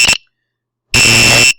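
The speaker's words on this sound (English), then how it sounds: "So this is a buzzer." An electronic buzzer powered by a 9-volt battery gives a loud, steady high-pitched tone in two bursts: a very short one first, then after a pause a longer one lasting about half a second.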